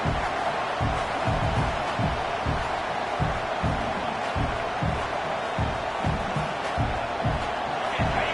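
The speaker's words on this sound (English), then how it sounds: "This crowd, full throat, spreading the eardrums" A packed stadium crowd roars in the College Football 26 video game, a dense sustained wall of cheering with rhythmic thumping beats pulsing underneath, loud and continuous.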